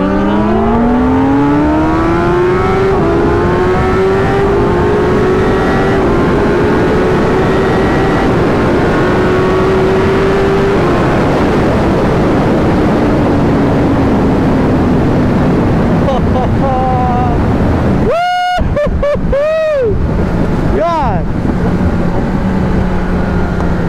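A Kawasaki Ninja ZX10R sport motorcycle pulls hard, its engine note climbing steadily through a long loud run, then easing off before a few sharp revving bursts near the end.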